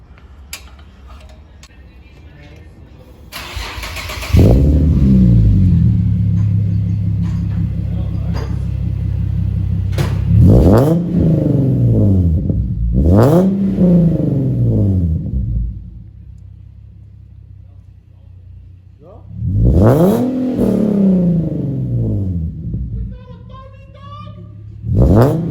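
An Infiniti G37 with a full ISR single exit exhaust starts with a deep rumble, idles, then gives several sharp revs that quickly fall back. People talk nearby between the revs.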